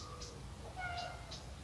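A cat named Mystigri meows faintly several times in a quiet room, a few short thin cries spread over low background hum, distant and soft.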